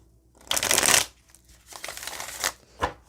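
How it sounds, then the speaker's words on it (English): Tarot cards are shuffled by hand in a few quick riffling bursts, close and crisp, with short pauses between them and no voice. "Let me just give it one little shuffle here."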